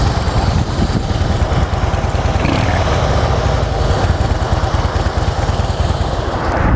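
A Harley Davidson Deluxe motorcycle engine runs at a steady, loud, rumbling idle close by, a continuous throbbing with no talking.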